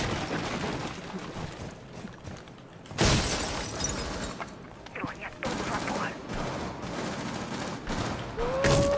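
Gunfire bursts and shattering windows from a Rainbow Six Siege match, with rapid shots and loud sharp impacts arriving in clusters, loudest around the third second and again near the end, over steady game background noise.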